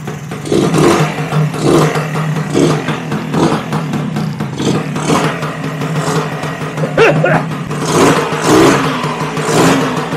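A Lambretta TV175 scooter engine runs in a garage, a steady close two-stroke chug with repeated rises and falls as the throttle is blipped, no talk over it.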